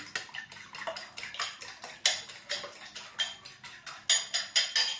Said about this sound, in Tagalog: Batihin na po natin ang ating itlog.